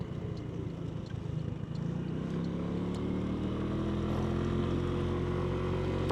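A Buddy 125cc scooter pulls away on a commute, its small engine rising in pitch as it accelerates, then settling into a steady, close buzzing hum with light wind, no talking.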